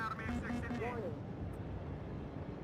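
A military aircraft flies in the Cold War strategy game WARNO as a steady engine roar, under a short burst of game voice near the start.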